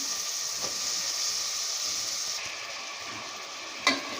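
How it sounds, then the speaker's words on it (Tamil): Chopped bottle gourd sautéing in a pan for a kurma, a steady loud sizzle and hiss with a faint stir or scrape now and then, close and continuous. "சுரக்காய் சேர்த்து நல்லா வதக்கிக்கலாம்."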